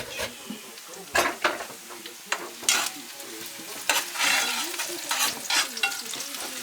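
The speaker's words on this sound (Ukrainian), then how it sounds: "Тим часом у нас жариться цибулька." Onion frying in a pan for risotto, crackling and sizzling steadily close by, with repeated sharp scrapes and clatters of a utensil stirring against the pan.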